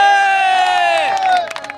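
A crowd at a Old Dhaka meat shop selling live camel meat roars in a loud, sustained cheer of many voices, which thins out into scattered shouts and a few claps at the end.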